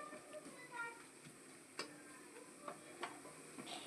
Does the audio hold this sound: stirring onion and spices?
yes